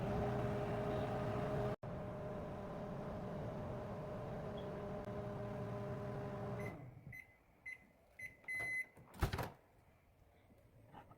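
A microwave oven hums steadily with a tonal drone for several seconds, then stops, followed by a few scattered clicks and short beeps.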